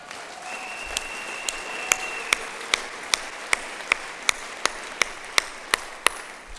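Rhythmic clapping from a church congregation during a French-language sermon, sharp even claps repeating at a steady beat about every half second over a quiet room.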